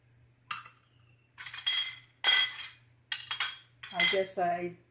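Metal canning lids and rings clink against glass jars being prepared for a pressure cooker, several sharp separate metallic taps and rattles in a quiet room, each one bright and ringing briefly.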